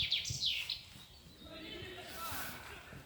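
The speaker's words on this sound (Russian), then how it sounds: "Зато хоть слышно, как птичка поет." A small bird chirps and trills outdoors near a spruce tree in the town of Klintsy, its bright calls clustered in the first second and again later, with faint footsteps and ambient noise beneath.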